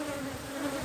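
Honey bees at a hive being split, a dense continuous buzzing hum filling the moment, steady and close without any talk.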